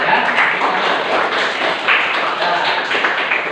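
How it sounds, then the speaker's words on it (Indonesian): A classroom full of students claps in a burst of applause, a dense, close patter of hand claps lasting a few seconds without pause. "Tepuk tangan ya."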